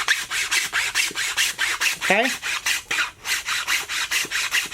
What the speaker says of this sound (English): I want to cut these in about as deep as my chainsaw file is thick.